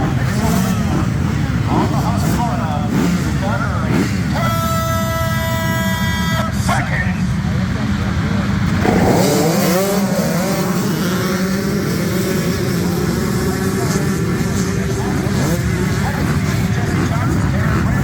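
Dirt bikes racing at a youth motocross event at Camp Coker, engines droning and revving nonstop, with a horn blaring briefly and crowd noise and people talking near the microphone throughout.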